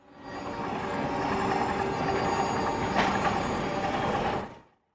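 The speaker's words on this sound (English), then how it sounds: "that same afternoon, he almost lets himself get hit by a train" A train rolls past on railway tracks with a loud, steady rumbling roar and clattering that swells in quickly, holds for several seconds, then cuts off, heard alone without voices.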